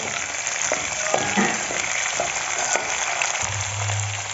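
Eggplant being sautéed in hot oil for a dal-eggplant dish: a continuous close, bright sizzle with occasional light stirring taps, and a low hum entering near the end.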